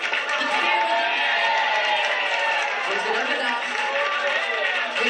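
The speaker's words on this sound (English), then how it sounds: "give them a big round of applause" A crowd at a music night applauds a couple's 40 years of marriage, loud and continuous clapping mixed with cheering and chatter, sustained throughout with voices rising over the clapping.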